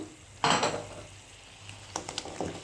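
Vegetables tipped into a hot frying pan set off a burst of sizzling, followed by quieter frying and a few clinks and scrapes of utensils against the pan.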